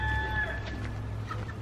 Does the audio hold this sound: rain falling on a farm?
no